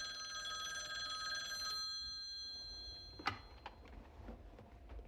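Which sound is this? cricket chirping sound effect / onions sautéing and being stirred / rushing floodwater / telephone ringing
telephone ringing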